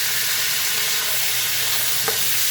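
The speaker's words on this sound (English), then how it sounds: "You want to make sure that you stir this without dropping a piece out like I just did." Pepper steak pieces browning in a hot pan, with a steady loud sizzle throughout and one brief scrape of stirring partway through, no voices.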